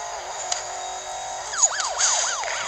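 Wailing police car siren in Need for Speed Most Wanted on PS Vita, a rising-and-falling electronic whoop that starts midway and repeats in quick cycles over a steady engine hum.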